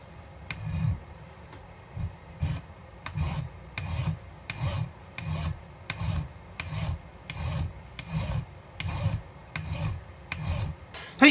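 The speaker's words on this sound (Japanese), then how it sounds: "フロントサイトの頭をですね、削り落として" A file rasps back and forth across the front sight of a target pistol, being flattened for bullseye shooting; steady rhythmic strokes, roughly one per second, close and distinct with no talk.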